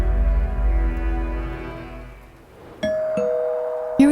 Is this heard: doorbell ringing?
yes